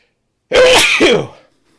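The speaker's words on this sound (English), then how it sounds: "I'm going to sneeze" A single sharp, explosive sneeze close to the microphone, bursting out after silence and trailing off into a brief breathy fade.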